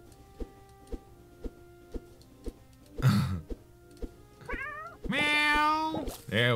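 Short game-style cat meows from the roguelike Next Hero play out over soft rhythmic ticking music, with a brief noisy burst before a couple of clear rising meows near the end.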